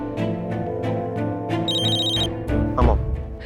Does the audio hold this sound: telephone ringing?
yes